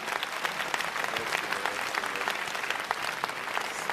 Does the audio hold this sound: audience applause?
yes